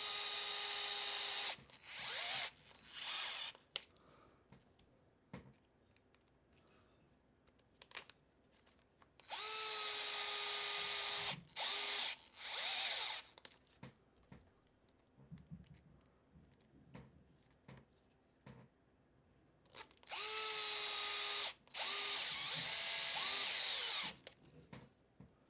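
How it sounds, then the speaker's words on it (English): A DeWalt 8-volt gyroscopic power driver whirs in several bursts of a few seconds each, sometimes with quick stuttering on-off pulses, separated by quiet pauses during a model truck build. "this is the DeWalt 8-volt gyro power driver that I'm using."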